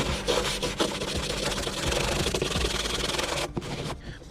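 A stiff wire brush scrubs dirt out of existing scratches on a high-density polyethylene kayak hull, a close, steady rasping scrape that runs continuously with brief pauses near the end.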